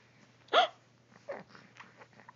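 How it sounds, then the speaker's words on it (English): A young child hiccups: one sharp, clear hiccup followed by a few softer, fainter catches, in a quiet room. "You got the hiccups."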